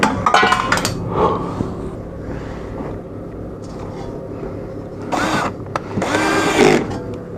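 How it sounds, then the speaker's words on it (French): A power tool drives suspension bolts on a Volkswagen Golf 6 during a new spring installation, with short bursts of whirring and several metallic clinks close by and no speech. "Et on va venir visser, d'accord, comme on a fait tout à l'heure, toute cette visserie."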